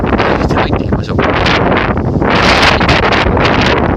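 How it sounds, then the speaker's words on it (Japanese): Strong wind roars continuously across open rice paddies near a remote rural railway station, buffeting the microphone with loud, gusting rumble and rustle throughout. "強風がすごいね。 涼しいんですけど、風が強い。"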